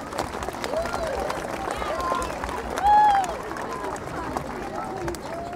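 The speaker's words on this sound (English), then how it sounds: "let's have one more big round of applause for everybody tonight" Crowd applause in a hall at a primary school Christmas concert, sustained clapping from a large audience with a faint background murmur, swelling briefly to a louder burst partway through.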